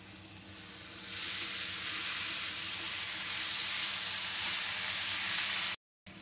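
Chopped boiled mango leaves are stir-fried with fish masala in a pan, giving a loud continuous hiss and sizzle up close that drops out for a moment just before the end.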